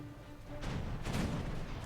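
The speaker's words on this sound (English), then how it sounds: "Let's go around for a broadside with our now reloaded cannons." Booming broadside of ship cannons in the War Thunder naval battle, a rumbling volley starting partway in and sustained with crashing bursts, fairly loud and without talk.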